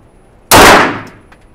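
A single loud, close Canik SFT Pro pistol shot cracks out sharply and rings off over about a second, with no talking.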